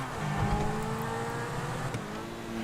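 The Zentorno supercar's engine in GTA 5 holds a steady, loud rev with a droning whine and slight rises in pitch, close and continuous with no talk.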